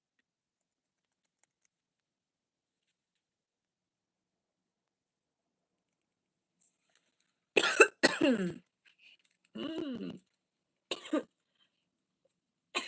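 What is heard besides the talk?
person coughing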